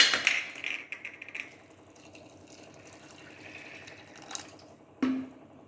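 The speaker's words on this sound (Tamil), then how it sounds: "தண்ணியை ஊற்றி" Water splashes and trickles into a pot of sprouted green moong dal with salt and turmeric in a few short pours, fairly close, with quiet pauses between.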